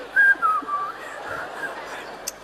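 A person whistles a few short, faint, wavering notes, as if while brushing false teeth. The whistling imitates the sound during a talk in a large lecture hall, with a quiet room hum underneath.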